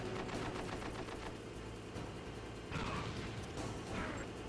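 A tank firing in the video game Metal Gear Solid opens with a fast, rattling stream of machine-gun rounds. Two heavier, booming blasts follow, all loud and up close.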